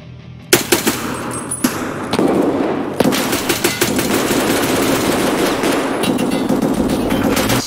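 Automatic gunfire in the online shooter Escape from Tarkov, with loud repeated bursts and single cracks followed by sustained rapid firing that continues through the whole stretch.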